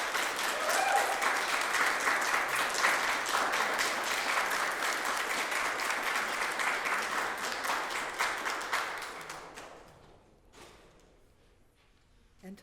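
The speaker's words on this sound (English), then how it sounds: "Let's give them another round of applause." A crowd applauds youth poets at a poet laureate finals event, sustained close clapping that thins out and fades near the end, leaving a few scattered claps.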